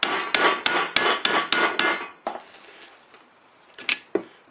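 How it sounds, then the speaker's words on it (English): A small chisel is driven into the rubber of a Nissan Patrol radius bush. About seven sharp, rhythmic strikes come up close, followed by quieter scraping and a couple of isolated knocks. "So to cut the rubber, we've already attacked the other side a little bit. Just get a small chisel"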